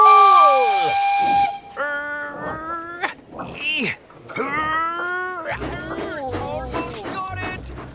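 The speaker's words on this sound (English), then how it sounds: "You pull on my whistle." A cartoon steam engine's whistle is pulled, giving a loud hissing shriek at the start that fades out, followed by animated characters talking and straining over it.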